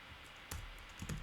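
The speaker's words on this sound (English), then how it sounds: "I'm typing the keys for the second row" Computer keyboard keys typed while entering letters for a keyboard row, heard as a few quiet, scattered clicks with one sharper keystroke near the middle and a small cluster toward the end.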